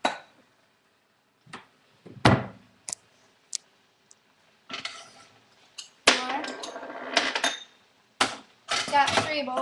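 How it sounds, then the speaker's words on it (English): Bowls are taken out of a cupboard and set down on a counter, heard as a string of sharp, close clinks and knocks with quiet gaps between them and a busier cluster of clatter near the end. "Get out 3 bowls."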